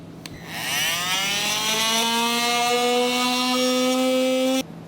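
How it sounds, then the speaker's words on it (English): Oscillating multi-tool cuts an opening in the front fascia of a 2015 GMC Canyon, a loud steady high whine with rising harmonics that runs for about four seconds and then stops abruptly. "I like to use a multi-tool"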